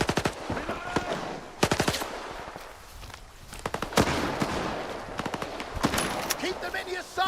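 Gunfire in the video game S.T.A.L.K.E.R. 2 comes as several sharp bursts and single shots spread across the scene, loud and close, with short quiet gaps and some voices and movement between them.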